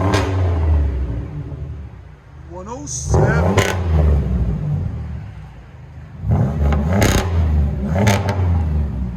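A supercharged 2000 Chevy Monte Carlo SS with a Magnaflow Magnapack exhaust revs loudly and close in several sharp throttle bursts over a rumbling idle. Voices talk between the revs.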